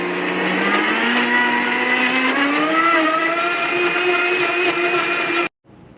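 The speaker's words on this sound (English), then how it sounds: "I'm going to blend these together." A blender whirs loudly, mixing raw food ingredients for a banana bread walnut brittle, a steady motor whine that rises slightly in pitch and runs continuously for several seconds before cutting off abruptly.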